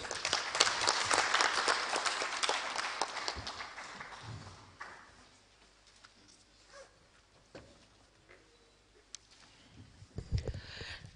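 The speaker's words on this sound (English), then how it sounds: "a loud round of applause for the Minister of ICT, Postal and Courier Services" Applause for Zimbabwe's Minister of ICT, Postal and Courier Services at an International Telecommunication Union event, loud and dense at first, then thinning into scattered claps and quieter room noise.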